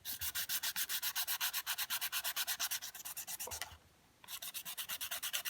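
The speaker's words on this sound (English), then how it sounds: "So just sand it all," Sandpaper scuffs cured resin on a painted coaster in rapid, even back-and-forth strokes, close and crisp, pausing briefly near the end before the rhythmic rasping resumes; no voices.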